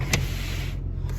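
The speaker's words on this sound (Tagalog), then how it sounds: "Ang bintana ng aking sasakyan, oh." In a snowy Canadian setting, a car's power window motor whirs briefly, a close and fairly quiet mechanical hum with faint clicks at the start and end.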